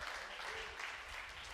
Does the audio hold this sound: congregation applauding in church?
yes